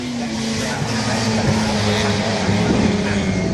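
Classic Mini race cars thunder past over Hilltop at Oulton Park during a close pack battle, a steady loud engine drone with shifting pitch as the leading group passes, commentary running over the top.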